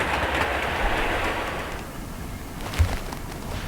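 Lightweight model train wagons rolling and bouncing over newly ballasted track, a steady rushing rumble with faint clicking that eases slightly toward the end, with one brief louder knock near the close.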